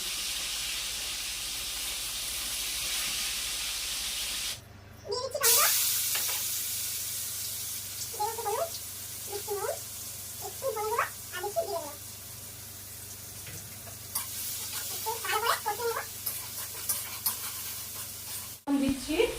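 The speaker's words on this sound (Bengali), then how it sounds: "মাছ ভাজছি আর চা খাচ্ছি" Fish frying in a pan gives off a steady broadband sizzle, with a break partway through and spoon or spatula scrapes and stirring clatter over it. Faint voices come and go in the background.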